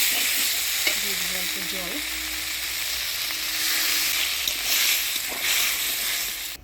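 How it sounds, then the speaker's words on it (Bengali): Eggplant and ground spice paste sizzle and fry in a pan while being stirred, a steady hiss with scraping strokes of the spoon near the start, close and continuous. "ভালো করে কষিয়ে নিব বেগুনটা।"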